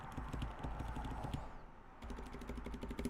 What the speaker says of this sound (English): I don't hate just pressing the keys